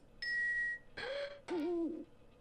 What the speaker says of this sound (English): Nope, that's the owl.